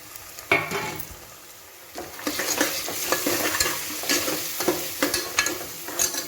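Onion softening in a hot pan with added spices, ginger-garlic paste, turmeric, chili, salt and dried fenugreek leaves, heard as a close sizzle under repeated scraping stir strokes that grow busier after a quiet start.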